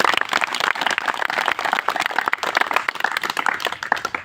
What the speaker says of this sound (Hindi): उनके लिए चाहता हूं जोरदार तालियों की ताली